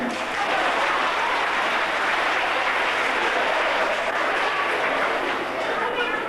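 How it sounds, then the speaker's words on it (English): A crowd at the Flamingoland parrot and sea lion show in 1995 gives a dense, steady round of applause that stays loud and continuous throughout. "for those of you who made the effort, a round of applause, please, Benson"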